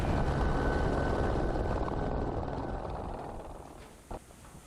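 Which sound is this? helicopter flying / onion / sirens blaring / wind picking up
helicopter flying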